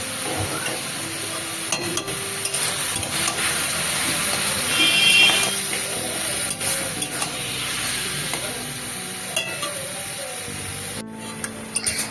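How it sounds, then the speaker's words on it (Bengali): A spatula stirs taro greens with turmeric and salt in a hot pan, making steady sizzling and frying with repeated scraping strokes, close and continuous. "ভালো করে এখানে ঘেটে দিতে হবে খুন্তি দিয়ে"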